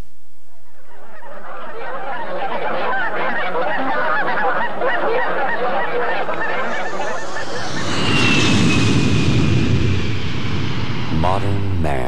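A flock of geese honks continuously in a dense, loud chorus, then an aircraft engine rises and roars over them in the latter part.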